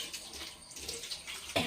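Tap water runs and splashes unevenly as mangoes are rinsed for pickle. The sound is faint with small surges, and a louder splash comes near the end.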